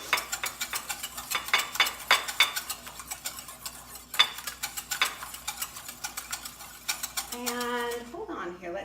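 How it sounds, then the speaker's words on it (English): Egg yolks are whisked in a bowl for a banana cream pie, rapid close rhythmic metal clinks and taps against the bowl that fade out near the end. "I'm going to whisk those up a little bit"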